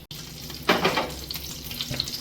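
Butter sizzling in a hot pan, a soft continuous hiss with a brief louder crackle and faint clinks.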